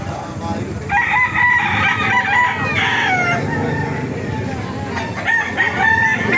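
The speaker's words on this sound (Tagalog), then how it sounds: "Pakita ko sa inyo mga manok dito." Several chickens cluck and squawk close by while roosters crow in long, strained calls, with some background voices and outdoor murmur at a chicken market in Baliuag, Bulacan, Philippines.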